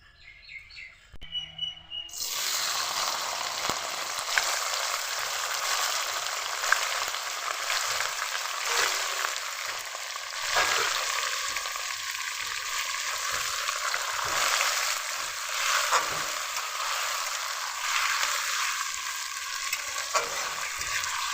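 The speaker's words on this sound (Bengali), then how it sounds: "পেঁয়াজগুলোকে আধা ভাজা করে নিয়েছি" Chopped onions fry in hot oil in a pan for a chicken dish, a loud, steady close-up sizzle with occasional stirring scrapes and faint birdsong in the background.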